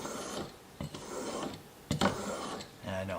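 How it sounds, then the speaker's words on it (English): A chisel is honed on a fine sharpening stone in a jig kit, giving a few separate scraping strokes, close and moderately loud, broken by brief pauses and small knocks. "stone has like a finer, smoother feel to it to restore that edge on the chisel"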